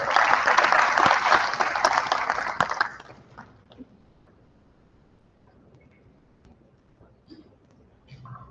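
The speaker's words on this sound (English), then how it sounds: "A big round of applause for sir." A conference audience applauds the chairman in a loud burst of clapping that lasts about three seconds and then stops abruptly, leaving a quiet room with faint shuffling and a voice beginning.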